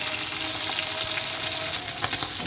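Fish frying in a pan for a home lunch: a dense, continuous close sizzle and crackle at steady loudness, with faint stirring ticks near the end.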